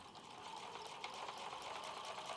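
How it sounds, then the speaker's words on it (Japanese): A sewing machine runs steadily at low volume as it stitches fabric for a hexagon-pattern patchwork shoulder bag, giving a continuous, even whirring hum with no pauses. "これをまずはミシンで縫います。"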